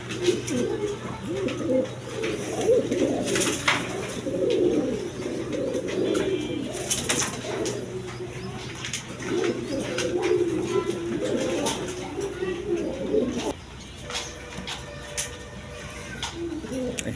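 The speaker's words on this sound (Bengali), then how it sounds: "ব্ল্যাকলেস বন্টি নেট কবুতর" Black lace pigeons coo close by, a continuous low, rolling cooing with overlapping calls that thins out near the end.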